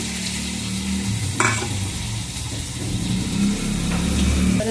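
Shrimp, potatoes and turmeric sizzle loudly in a frying pan for a pumpkin-greens dish, with continuous frying hiss and occasional stirring scrapes throughout.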